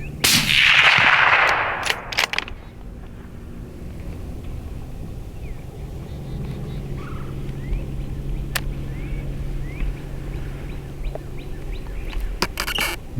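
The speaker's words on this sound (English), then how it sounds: "Nice shot, Martin, my new friend." A single loud gunshot cracks out at the start of a coyote hunt, close and sharp, then fades into quiet outdoor ambience with scattered faint clicks and distant bird calls.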